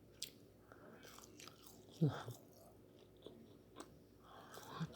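Someone chewing a grilled konjac jelly snack indoors, with soft close mouth sounds and one louder bite or crunch near the middle, over faint background noise.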